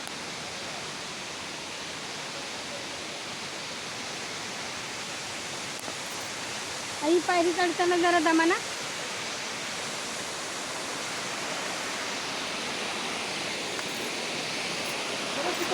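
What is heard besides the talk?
waterfall flowing at Marleshwar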